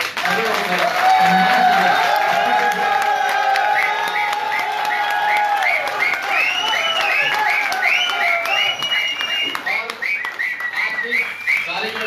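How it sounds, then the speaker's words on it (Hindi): Loud crowd applause with cheering and whistles fills a festive live birthday celebration, a dense, sustained ovation running throughout without letup. "एक बार जोरदार तालियां"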